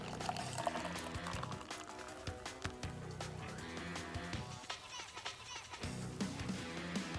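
Homebrewed sour IPA beer draining into a fermenter, a quiet, uneven pouring and splashing of liquid with gurgles and small knocks throughout.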